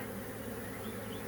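A steady, close buzzing of many honeybees around a hive hums continuously, fairly faint and even throughout, in poor weather.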